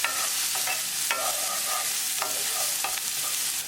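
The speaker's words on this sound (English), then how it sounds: "Add ginger, garlic. Mix it. Cook ginger, garlic until the raw garlicky flavor is" Ginger and garlic frying in a pan for corn masala, stirred so that repeated scraping strokes ride over a continuous close sizzle, with no voices.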